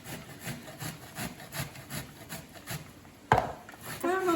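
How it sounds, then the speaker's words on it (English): Green plantain rubbed back and forth across the rough side of a hand grater in a home kitchen, giving a steady rhythmic scraping close up, with a short clatter and then a voice near the end. "I'm gonna grate the plantain with this rough part, this part."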